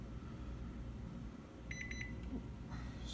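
A kitchen timer set for instant udon noodles gives a short run of quick, high electronic beeps partway through, faint against a quiet room hum.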